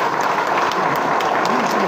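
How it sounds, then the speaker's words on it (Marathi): Audience applause at a political gathering, a dense steady wash of many hands clapping together for two seconds at moderate level, with crowd voices mixed faintly underneath. "टाळ्या मारायच्या तर सगळ्यांनी"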